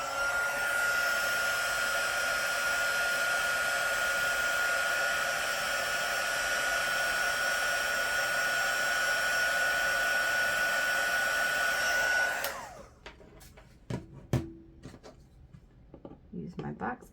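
A hot-air heater blows steadily and loudly for about twelve seconds to warm plastic on a solar jack-o-lantern for cutting, then cuts off, followed by a few sharp handling clicks and knocks.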